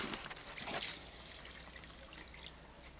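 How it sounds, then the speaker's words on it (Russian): Warm water is ladled and poured from a watering can onto cucumber plants in a greenhouse bed, a close trickling splash that is strongest early and tapers to a softer dribble. "Короче, подожди, я сейчас их полью хорошо."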